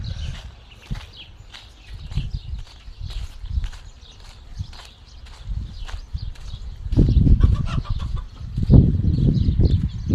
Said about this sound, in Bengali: অনেকগুলো মোরগ,